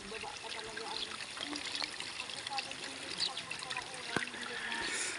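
At a landslide site, water trickles and pours down steadily from above, a continuous splashing wash close by with a few sharper drips standing out.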